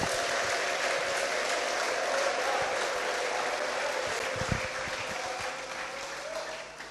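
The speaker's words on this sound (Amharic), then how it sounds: "ለጌታ ክብር እልልታ ጭብጨባ አምጡለት" A church congregation applauds and ululates in praise: dense, steady clapping that fills the whole stretch at a moderate distance, with a faint sustained high trill under it that eases slightly toward the end.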